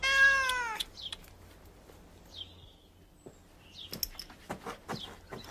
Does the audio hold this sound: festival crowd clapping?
no